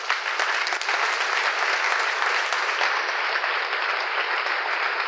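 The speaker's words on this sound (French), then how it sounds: "on peut les acclamer très fort" A church congregation applauds loudly and continuously, dense clapping from many hands filling the space evenly throughout, with no voices standing out.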